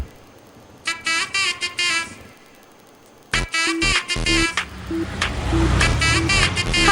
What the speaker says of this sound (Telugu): ఇదిగో బస్ ఆపండి, బస్ ఆపండి